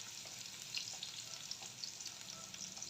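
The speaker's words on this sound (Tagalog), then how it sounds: "Hayaan muna natin ang ating bawang ay mag-golden brown." Garlic fries in oil in a pan, turning golden brown, giving a quiet, even sizzle with faint crackles throughout and no talking.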